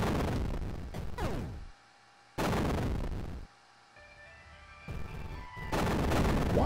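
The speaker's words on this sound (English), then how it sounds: "why is it exploding?" Explosions in the video game Axiom Verge: loud, dense bursts of crunchy synthetic blasts come in several clusters, separated by short quieter gaps with electronic tones.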